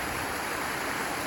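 River rushing steadily behind an RV park at Lava Hot Springs in snowy winter weather, a close, continuous broadband wash of flowing water with no voices.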